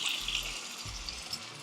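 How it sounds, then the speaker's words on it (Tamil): Water is poured into a pan of prawn thokku cooking on the stove, a short soft gush and sizzle, faint and close, with no voices. "தண்ணி கொஞ்சம் ஆட் பண்ணிக்கலாம்."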